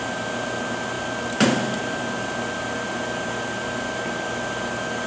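An Alcatel ASM-180td helium leak detector with a dry pump and a turbomolecular pump inside runs with a steady mechanical whir and a high whine, broken by one sharp clunk early on.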